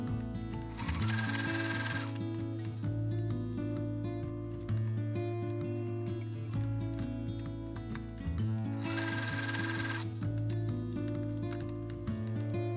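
Close up, a sewing machine runs steadily as it stitches fabric for a dog balaclava, a fast, even mechanical whir with a brief louder rise twice, and no voices.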